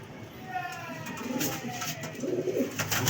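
Golden pigeons cooing softly at a pigeon keeper's house, a few faint low coos over steady background noise with no talking.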